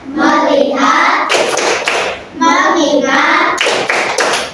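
A classroom group performs the 'tepuk fokus' clap routine during an Islamic education lesson, with children chanting the words aloud between bursts of rhythmic clapping, loud and close throughout.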